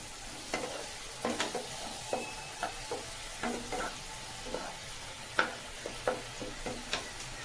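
Stirring a curry of green banana, potato and long beans, with soft sizzling under repeated spoon scrapes and taps against the pan in an uneven rhythm, close but quiet and free of talk.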